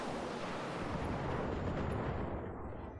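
Weapons firing on a target in the Battletech video game: a dense, continuous roaring barrage of rumbling blasts for about three seconds, with the high end fading toward the end.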